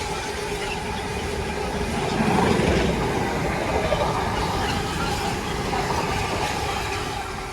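A freight train, probably bound for Felixstowe or London Gateway, rumbles steadily past at Watford Junction, a continuous broad roar with faint wheel clatter and light squeal that swells slightly midway.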